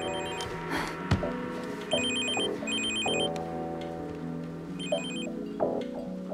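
A telephone rings in repeated electronic bursts over a busy, tonal indoor background, with the trilling pattern returning several times across the stretch and no one speaking.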